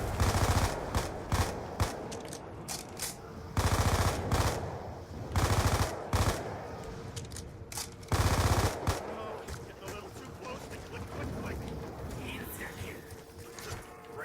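Bursts of automatic gunfire in Black Ops II Zombies, several sustained loud volleys separated by short pauses, with quieter in-game noise and faint talk in between.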